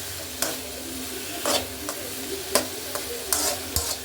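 Ridge gourd fry with salt stirred in a pan: intermittent spatula scrapes and taps every second or so over a low, steady sizzle, close and fairly loud.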